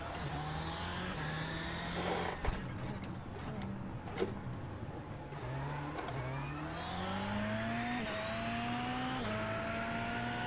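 A VW Beetle rallycross car in iRacing, its engine droning and shifting pitch through gear changes while it slides and brakes on a dirt and tarmac track, with a few sharp clunks along the way.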